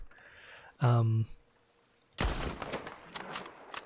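A bolt action rifle in the video game Red Dead Redemption 2 fires a single sharp boom whose echo trails off, with a brief tone heard before it and faint clicks following.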